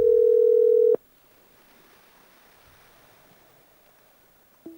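A phone call goes unanswered: a loud steady ringback or dial tone sounds for about a second, then cuts to near silence with faint line hiss before a short tone returns at the end.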